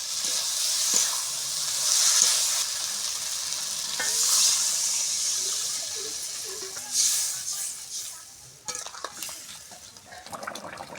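Spiced potatoes hiss and sizzle loudly in a pan as water goes into the hot fried masala for an egg omelette curry, with a steady frying wash, brief stirring knocks and pan clatter toward the end.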